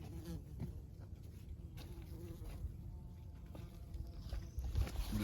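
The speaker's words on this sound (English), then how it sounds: "I'm just curious to see if those bees will pick up on the audio" Bees buzz in a home garden in May, a steady, faint insect drone that holds low and continuous over quiet outdoor background.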